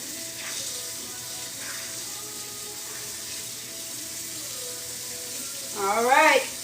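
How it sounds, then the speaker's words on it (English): Tap water runs steadily into a sink while tie-dye shirts are rinsed, a continuous hiss with faint splashing and a short voice near the end. "I have 2 more shirts to rinse out"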